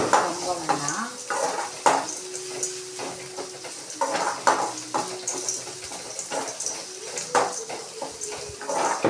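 Onions fry in a pan, cooking toward a light brown, with a steady hiss under repeated scraping and clinking stirs of a utensil against the pan, close by and without talking.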